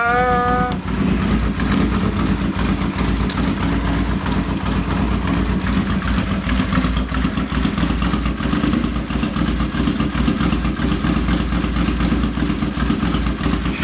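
A Honda CX500 motorcycle engine catches after a brief cranking burst and settles into a steady, loud, slightly uneven idle that runs close by for the rest of the time, with no voices.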